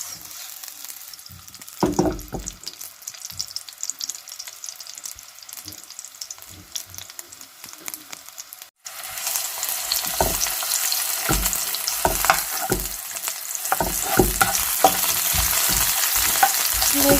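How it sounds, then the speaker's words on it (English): White onion stir-frying in a pan for a vegetarian spaghetti stir fry, quiet clinks and tossing at first, then a loud steady sizzle bursts in halfway with scattered stirring scrapes over it. "and the white onion as well, and let them toss"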